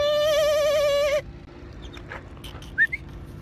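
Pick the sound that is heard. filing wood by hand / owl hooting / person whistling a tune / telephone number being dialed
owl hooting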